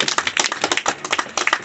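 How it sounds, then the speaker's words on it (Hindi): Brisk clapping from a gathered crowd for Dr. Imtiaz Alam at a public political meeting, a quick run of close, sharp hand claps in uneven bursts with short pauses. "इनके लिए जोरदार तालियां डॉक्टर इम्तियाज आलम सर के लिए"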